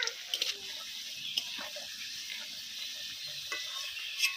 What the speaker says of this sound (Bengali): প্রথমে আমাদের আলু ভাজা হচ্ছে